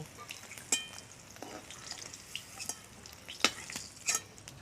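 Bitter gourd pieces fry in a pan for shukto, a quiet, steady sizzle punctuated by a few crisp clinks and scrapes as the spatula stirs.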